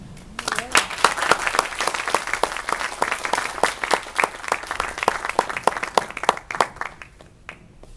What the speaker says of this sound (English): If everyone could give him a big round of applause.